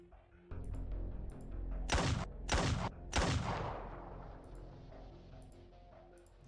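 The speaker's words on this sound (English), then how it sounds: "The sound of the gunshot fills the space." Three sharp gunshots ring out in Arknights, each a loud crack with a ringing tail, spaced about a second apart over a soft game ambience.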